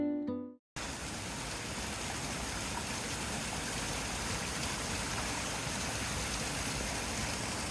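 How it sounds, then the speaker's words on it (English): Small waterfall flowing at a local outdoor spot: a steady, full rushing hiss of falling water that starts abruptly after a brief moment and continues evenly, close and constant with no talking. "So we are here now at this little waterfall"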